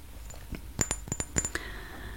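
A glass perfume bottle of Ex Nihilo fragrance is set down with a quick cluster of close, bright clinks and taps, crisp and distinct in a quiet room.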